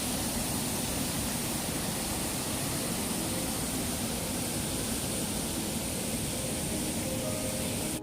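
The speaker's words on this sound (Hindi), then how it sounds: "मॉनसून की वजह से इस नदी का फ्लो भी काफ़ी तेज रहता है।" Fast, monsoon-swollen mountain river in Uttarakhand rushing beneath a bridge, a steady, loud broadband roar of water that stays constant throughout with no pauses and no voices.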